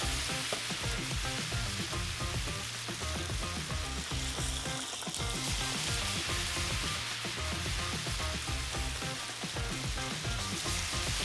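Salmon fillet searing herb side down in a preheated pan makes a loud, dense, continuous sizzle that holds steady throughout, close up and with no talking.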